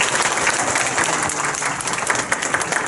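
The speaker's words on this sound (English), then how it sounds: "Let's have a round of applause again." An audience at a student orchestra concert gives a round of applause, a dense, loud wash of clapping that carries on steadily with no break.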